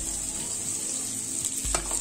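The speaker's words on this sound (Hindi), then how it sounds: "इसको हल्का ब्राउन करते रहना है, इसी तरह से फ्राई कीजिए।" Potatoes and chili frying in a pan for bread rolls, giving a steady close sizzle with a brief scrape of stirring near the end.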